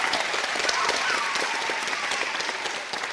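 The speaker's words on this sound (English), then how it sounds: "that was a big applause" Applause at a children's ministry play performance, a broad, steady wash of clapping from the audience that stays full and fairly loud for several seconds, with a voice faintly audible beneath.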